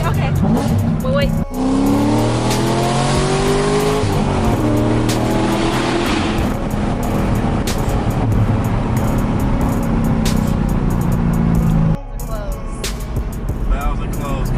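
Car fitted with headers, an X-pipe and flex-fuel tune, exhaust valves closed, idling and revving with a steady engine drone, fairly loud and close, with people talking and cheering over it.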